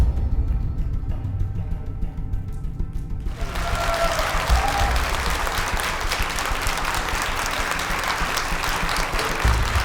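After a few quiet seconds, a large audience at the Got Talent Armenia 2026 show bursts into loud, sustained applause that continues evenly to the end.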